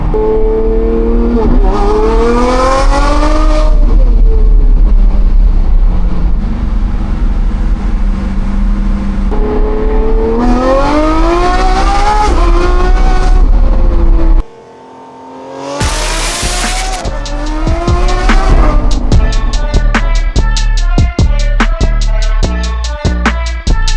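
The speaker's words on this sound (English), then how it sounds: "Man, this car is loud, dude." Lamborghini Revuelto fitted with a Gintani exhaust, revved hard and loud in repeated rising sweeps, with a brief drop then an explosive high-rpm burst and crackling pops, close and alone.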